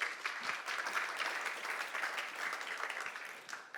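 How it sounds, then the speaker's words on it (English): A symposium audience applauds steadily after a talk, a dense patter of clapping that carries on evenly and starts to fade at the very end. "Big applause to you."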